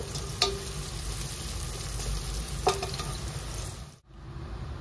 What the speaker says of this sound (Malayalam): ഉള്ളി നല്ലോ ഫ്രൈ ചെയ്തെടുക്കുക.